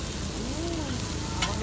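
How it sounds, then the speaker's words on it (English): Smash burgers with onion sizzle on a hot griddle, a steady close frying hiss with a brief metallic scrape near the end, no talking. "Now that's gonna caramelize the onion and juice up the meat both at the same time."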